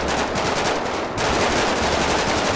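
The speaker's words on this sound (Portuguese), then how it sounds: "eu vou dar tiro de supressão na porta aí" Suppressive gunfire aimed at a door in the video game GTA 5 roleplay rolls out as a dense, continuous automatic burst, loud and close, with only a brief dip in the middle and no talking.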